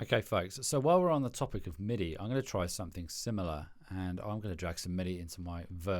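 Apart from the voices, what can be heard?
No distinct noise like a dog, phone or traffic.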